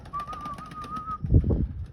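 Domestic pigeons in a Mykolaiv loft give a soft low cooing and rustle, with a thin steady whistle-like tone over the first second, faint and close.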